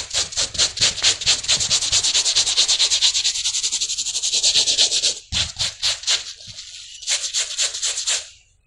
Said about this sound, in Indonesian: Kita bilas dulu dan langsung aja sikat.